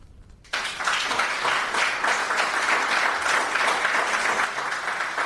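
An audience applauds after a lecture at the Maritime Museum of Asturias, with sustained, dense clapping that starts abruptly after a brief quiet moment and continues evenly to the end.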